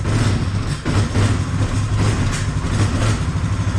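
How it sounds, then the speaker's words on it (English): A Polaris 570 ATV engine idles unevenly with a low rumble, its steady drone briefly dipping and catching as it sputters, close by with no talking. "And it sputters a little bit."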